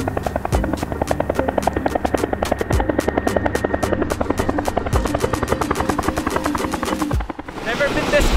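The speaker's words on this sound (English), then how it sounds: "Never been this close to a helicopter before." A helicopter running up close on the ground near Whistler, its rotor chopping loud and steady with rapid regular blade beats and a deep engine whine throughout, briefly easing near the end.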